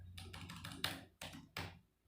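Quick bursts of keystrokes on a computer keyboard while a heading is typed, close and soft, in three or four short runs separated by brief pauses.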